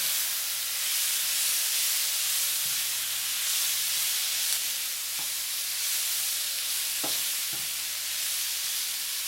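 Turkey sausage with sweet bell peppers and onions sizzling in a pan for a stir fry, a steady loud hiss of frying with a few soft stirring knocks.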